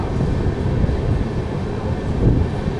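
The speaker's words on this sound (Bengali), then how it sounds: "ফাইনালি কিন্তু আমাদের বর্ধমান থেকে ট্রেনটা ছেড়ে দিল" A passenger train pulls out of Bardhaman station in India with a loud, steady low rumble and clatter of the carriages rolling on the rails, with no talk over it.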